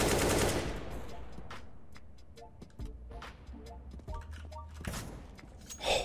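Bursts of gunfire from the video game CS:GO, a loud volley at the start followed by scattered sharp shots and clicks through a competitive match, with another burst near the end.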